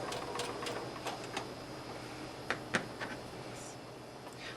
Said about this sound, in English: With our needle down, we're going to stitch forward and stop, and go in reverse,